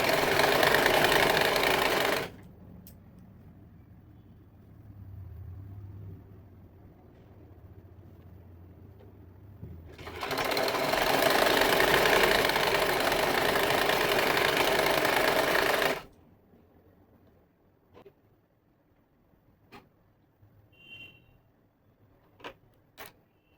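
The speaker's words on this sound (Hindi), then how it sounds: "इसी तरह से दूसरे साइड में हम सिलाई लगा देंगे।" Sewing machine stitching the seam on a pair of 32-size regular trousers, with two long loud runs of steady motor whir separated by quiet pauses and a few faint handling clicks.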